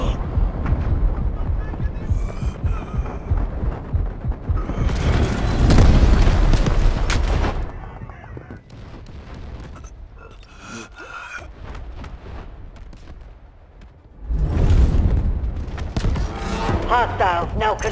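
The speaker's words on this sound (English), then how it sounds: "Incoming artillery" Artillery shells exploding in the military shooter Delta Force: Hawk Ops, heavy booming blasts that swell around the middle and return near the end over a constant din of battle, with brief radio-style voices in between.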